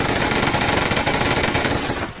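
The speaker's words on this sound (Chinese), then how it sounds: "他的火力其实是非常充足的，弹药也是非常充足的，几乎人手一把 MG3" Sustained automatic fire from MG3 machine guns during a beach assault in PUBG Mobile, a dense unbroken rattle of rapid shots, loud and close, trailing off at the very end.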